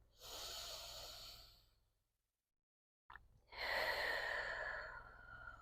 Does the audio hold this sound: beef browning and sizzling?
no